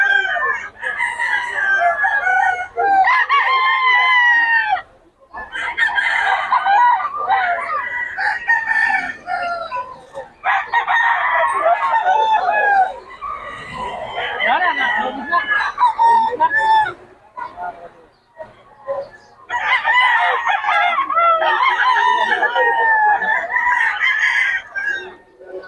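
Roosters crow again and again at a rooster market in Bocaue, with overlapping loud calls and clucking over crowd chatter and voices.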